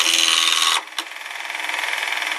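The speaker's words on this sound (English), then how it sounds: "Good old roughing gouge. We'll take it down to round first." A roughing gouge cuts an acrylic blank spinning on a lathe, giving a loud, close, pulsing scrape that breaks off briefly, catches again in a short burst, then resumes in a steadier, lighter rasp.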